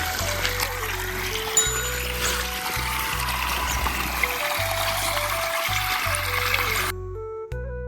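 A running farm water pump motor sends water splashing and trickling in a steady, loud stream over a low motor hum and background music, ending abruptly near the close.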